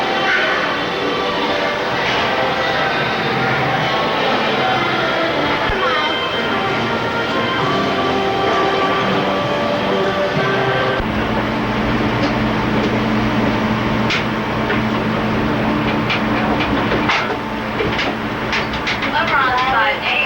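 A Busch Gardens monorail ride with a continuous rolling rumble and rhythmic clacking, plus an occasional squeal, close and steady, while people talk over it.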